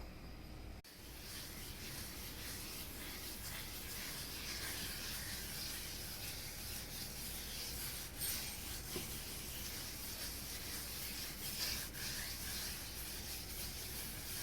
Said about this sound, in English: Rub your meat down real good